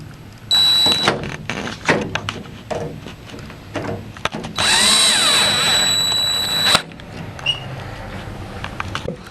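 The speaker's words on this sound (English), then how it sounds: "you're going to drill it in just like this." A power drill drives screws into a window awning bracket, with short whirring bursts, one long sustained whine in the middle, and clicks and handling knocks between runs, close and fairly loud.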